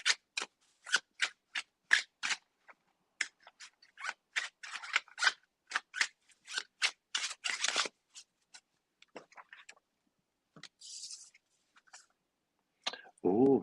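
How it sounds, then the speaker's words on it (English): Tarot cards shuffled by hand in a quiet room, a quick run of crisp riffling snaps and flicks that slows into sparse taps, followed by a brief spoken word at the end. "I'm reading comments while shuffling."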